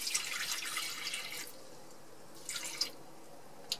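Water is poured into a Thermomix TM31 food processor while camping in a caravan, a faint bright trickling stream in two short bursts with a quiet pause between.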